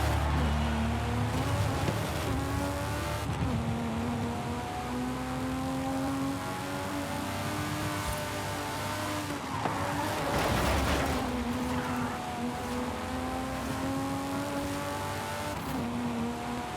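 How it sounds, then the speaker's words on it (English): Car engine revving steadily in the racing game Forza Horizon 5, a loud sustained drone that rises and falls in pitch with gear changes and throttle, continuous for the whole stretch with no talk over it. "Well, the engine sounds lovely."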